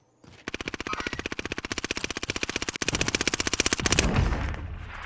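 Rapid automatic gunfire in Call of Duty: Modern Warfare, a long, loud, evenly spaced burst of machine-gun shots with a brief pause near three seconds before firing resumes, then a rumbling tail at the end.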